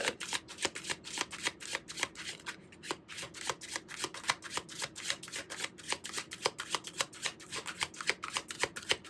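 Rapid, even riffling of tarot cards being shuffled for a reading, close and soft, a steady stream of crisp flicks with a short pause near the middle.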